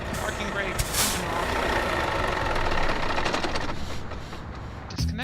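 A truck's engine idles in Euro Truck Simulator 2 with a steady, close, broadband rumble that holds for several seconds, followed by a brief hiss and click near the end.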